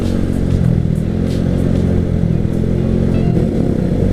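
A Yamaha Nouvo Sporty motorcycle engine runs steadily up close, a constant loud mid-pitched drone with a slight rasp and no voices.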